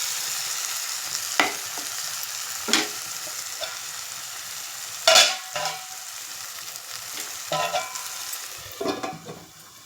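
Egg gravy curry masala cooking in a pan, with a steady low sizzle and occasional louder scrapes and stirs of a spoon at irregular intervals, close by with no talking.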